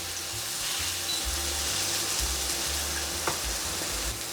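Shredded potato hash browns sizzle steadily in hot oil in a pan, a close, even crackling hiss with occasional soft scraping as the shreds are spread out.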